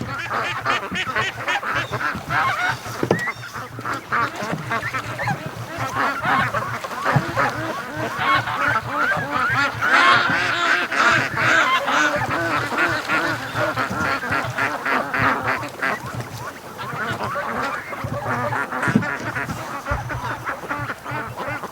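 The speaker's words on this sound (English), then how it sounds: "Oh, the geese, they look so cool in the water." Flock of geese and free-range ducks on a lake, honking and quacking continuously and densely from many birds at once, loud and close throughout with no talk.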